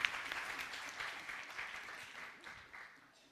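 Audience applause at a Bait Bazi Urdu poetry gathering in Aurangabad, a burst of many hands clapping that starts strongly and gradually thins and fades over a few seconds.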